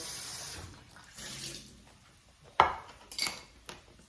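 Vegetables being washed under a running kitchen tap for a plant-based meal: a soft steady water hiss fades, then a few sharp clinks and knocks at the sink follow, with no talking.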